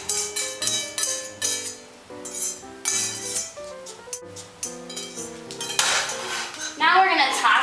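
A pan of warm dressing being tipped over a spinach salad, with metal pan clanks and ringing clinks against the bowl, then a louder pouring, splashing rush at the end.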